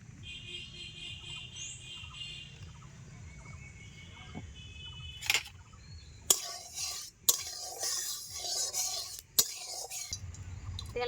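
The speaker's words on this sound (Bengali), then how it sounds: "কড়াই গরম হয়ে গেছে দিয়ে দিচ্ছি সর্ষের তেল" Mustard oil hits a hot wok with a sudden sizzle and crackle after a quiet stretch of metal stirring, the hiss rising and fading in bursts.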